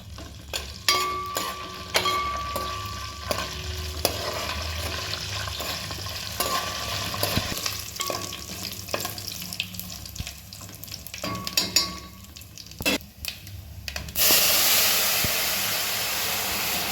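Onions, dried red chillies and curry leaves fry in a pan for goat leg sherva, a steady close sizzle broken by repeated stirring scrapes and clinks, with a louder hiss toward the end.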